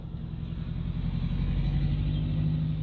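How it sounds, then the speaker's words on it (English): An old car rumbles past close by, a steady low engine drone that swells slightly and stays loud throughout, with no talk over it. "Sounds like there's an old car."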